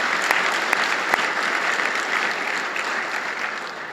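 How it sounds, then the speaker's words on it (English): Steady, dense audience applause fills a hall during a university's state of the university address, a continuous crowd of clapping that holds at an even level and fades slightly toward the end. "let's give them a round of applause anyway."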